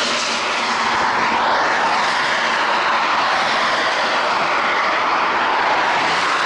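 Scooter engine on a long-distance road trip revving under light throttle, a loud continuous droning roar close by, with strong wind rush throughout and no talk.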